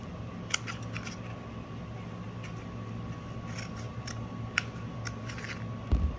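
Scissors cut fabric during net-making work: a few quiet, scattered snips and clicks stand out against a faint background hum, with no talking.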